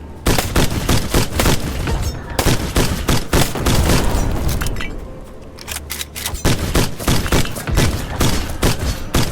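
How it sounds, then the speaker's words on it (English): A fast-firing rifle in Black Skylands lets off rapid bursts of loud, booming shots up close. Dense volleys pause briefly midway, then the rapid firing starts again. "Problem with the rifle is that despite its super fast fire rate,"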